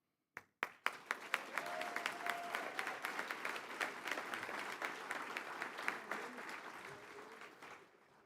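Applause from an audience at a CFAES awards ceremony honoring a retiring extension educator: a few sharp early claps quickly swell into sustained clapping from a sizeable crowd, easing gradually toward the end with faint voices underneath.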